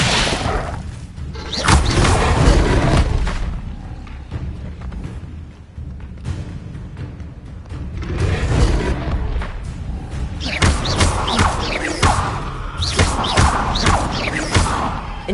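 Repeated Incendio fire spells cast in Hogwarts Legacy burst out as loud whooshing thuds and crackling impacts, several bursts in succession with brief lulls between them.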